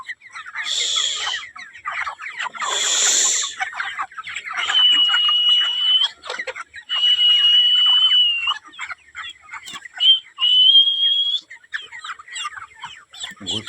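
Chickens cluck nearby in bursts, mixing short chattering calls with several long, drawn-out tonal squawks and a few loud sharp cries, with brief quiet gaps between the bursts.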